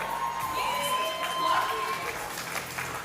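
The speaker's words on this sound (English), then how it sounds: "Big round of applause, ladies and gentlemen, for our winner." Guests at a wedding reception cheer and whoop for a party game winner, a lively crowd din with shouts and some clapping mixed with chatter, fairly close and continuous for a few seconds.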